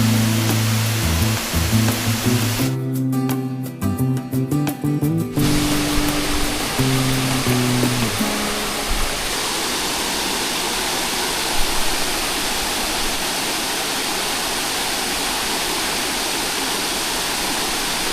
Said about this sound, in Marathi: खूप मोठा धबधबा आहे